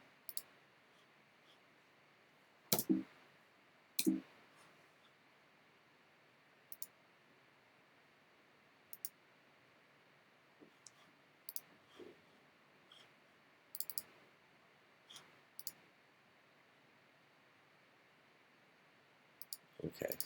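A computer mouse clicks repeatedly, scattered sharp clicks spaced irregularly, sometimes in pairs, close to the microphone in a quiet room with a faint background hiss.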